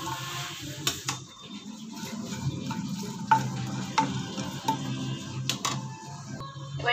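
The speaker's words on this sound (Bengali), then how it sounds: "এবার এগুলো একটুখানি আমি ভাজা ভাজা করে নেব শুকনো খোলাতেই।" Cinnamon, bay leaf and large cardamom dry-roast in an oil-free pan, giving a soft, steady scrape and rustle of stirring with scattered light clicks and a faint crackle, close and fairly quiet, with no voices.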